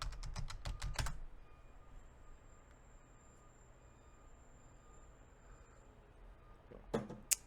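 Bursts of computer keyboard typing during a terminal session, a quick run of keystrokes at the start and a few more at the end, with a quiet hum in between.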